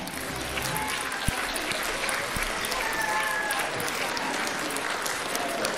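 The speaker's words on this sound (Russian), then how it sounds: "Давайте встретим их на нашей сцене с бурными овациями." A concert audience gives a warm ovation as guests from a children's centre come on stage, a steady wash of applause with scattered sharp claps and some voices in the crowd.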